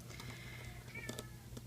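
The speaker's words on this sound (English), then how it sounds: "that is my cat telling us off that it's bedtime" A house cat meows faintly in a few short, quiet calls indoors against low background hum.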